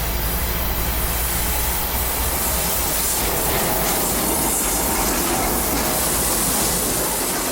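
Freight locomotives back onto a rail wye at an intermodal yard, heard up close as a loud, dense rumble of engines and rolling cars, with wheel clatter and scraping squeals continuing throughout.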